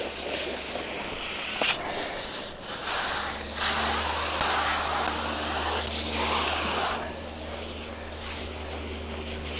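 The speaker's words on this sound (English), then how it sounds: "This particular wand is skinny enough that I can put it down these holes and spray down inside these grids" A water wand sprays down inside the grids of a Pentair DE pool filter, making a steady close hiss that swells and dips as the spray moves, over a low constant hum.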